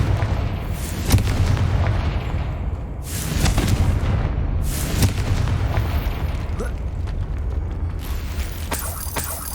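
Confringo fire spell explosions in Hogwarts Legacy, a run of heavy booming blasts over a dense, continuous roaring rumble that swells and fades throughout.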